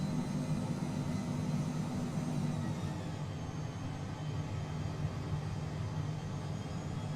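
The twin jet engines of a Phenom 100 spool up for takeoff in Microsoft Flight Simulator 2020, a loud, steady, broad roar with a low rumble that holds evenly throughout. No talking.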